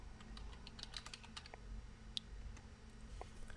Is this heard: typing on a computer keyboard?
yes